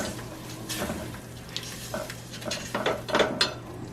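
Homemade sofrito stirred in a cooking pot for ham soup, irregular utensil scrapes and clinks against the metal over a faint sizzle, close by with no talking.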